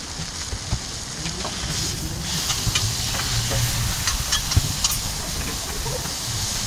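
Smash burger patties sizzling on a Blackstone griddle, a continuous steamy hiss with scattered crackles and pops, moderately loud and steady with no speech over it.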